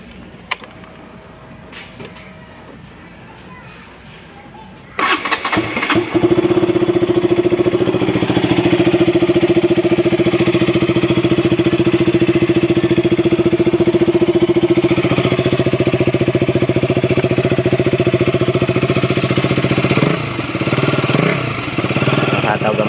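A KTM RC 200 motorcycle idles through its exhaust with a loud, steady, close drone that starts abruptly after a few quiet seconds and holds evenly to the end.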